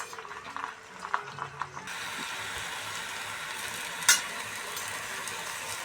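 Spinach cooking in oil in a wok, heard as a steady close sizzle that settles into a continuous frying hiss, with a few light stirring knocks near the start.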